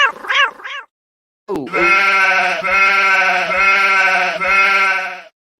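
Sheep bleating loudly and close by: two short wavering bleats, a brief pause, then one long sustained bleat with a pulsing rhythm that runs for several seconds.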